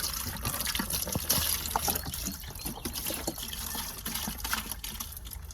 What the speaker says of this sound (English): Got our cleaning solution here. Pop that. Pour that